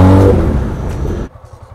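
A Kawasaki ZX10R motorcycle's exhaust revs loud and close, a throaty roar that holds for about a second and then cuts off sharply, leaving a low idle rumble.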